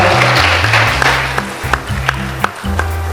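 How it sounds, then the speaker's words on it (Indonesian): Applause from an audience at an Indonesian diaspora gathering, with individual sharp claps rising above a dense, loud background of voices and low tonal sound. "Tepuk tangan dulu buat Papua Barat Daya dan Papua Barat."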